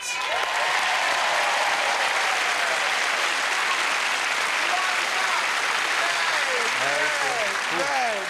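Sustained applause from a studio audience fills the room, steady and enthusiastic throughout.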